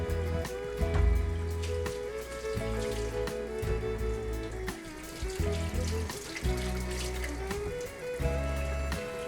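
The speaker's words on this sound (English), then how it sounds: "So I just need to wash these off because I don't want any garden" Cucumbers rinsed under a running kitchen tap, a steady splash of water over the produce, close and continuous, with background music throughout.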